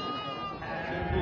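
Sheep and goats bleat at an outdoor livestock fair in Taquaritinga do Norte, Pernambuco, a short wavering cry over a busy background murmur.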